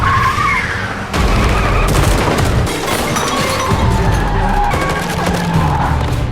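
A car tears away during a movie chase, with tires skidding and the engine roaring amid booming impacts and bursts of gunfire, loud and dense throughout.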